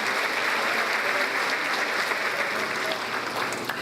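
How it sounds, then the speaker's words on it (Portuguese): Church congregation claps together in a thick, even roar of applause that holds steady for the whole few seconds, moderately loud and unbroken. "Aplauda o Senhor, Ele deve ser louvado e exaltado."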